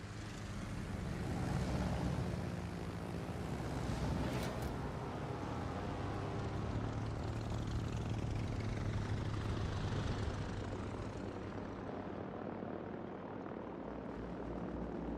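Aircraft flying overhead in the naval game World of Warships, heard as a steady, loud, broadband propeller and engine roar that continues through the whole stretch and softens slightly toward the end.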